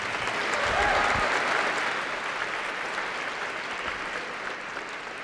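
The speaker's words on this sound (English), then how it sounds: "Can we give her another round of applause?" An audience at a rally gives a steady round of applause, a dense wash of many hands clapping at moderate distance that fades slightly toward the end.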